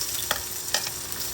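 Chopped onion sizzling in a hot pan with garlic already frying, a steady close crackle with a few soft clicks of stirring, no voices.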